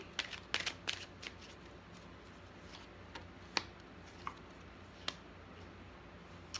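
Tarot cards being shuffled by hand, a quick flurry of soft riffling snaps at first, then sparse single card taps and flicks, close but quiet, no talking.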